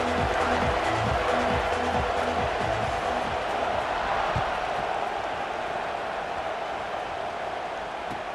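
Stadium crowd noise from a college football video game with Kansas playing, a dense, continuous roar of many voices with a faint rhythmic pulsing early on, steady and moderately loud.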